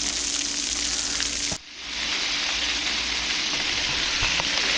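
Snapping turtle meat frying in oil, a loud dense close sizzle with a steady hum underneath, briefly dipping as the pan is disturbed, then returning to full crackle, no talk.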